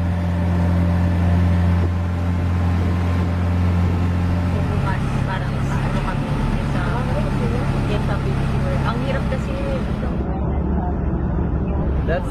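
A boat engine drones with a low steady hum in the Philippines, shifting pitch partway through, mixed with background chatter and ambient noise before cutting off.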